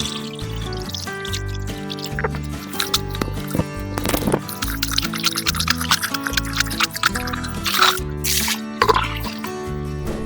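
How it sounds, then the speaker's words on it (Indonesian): Dirty fishing net used as a pond filter in a RAS fish-farming tank, soaked and rinsed in water: steady squishing, dripping and gurgling splashes close by with faint talk. "kita rendam-rendam dan dibilas-bilas di dalamnya guys ya"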